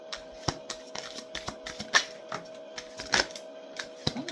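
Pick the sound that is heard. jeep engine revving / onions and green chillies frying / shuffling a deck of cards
shuffling a deck of cards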